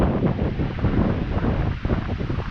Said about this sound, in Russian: Показать, какой силы ветер.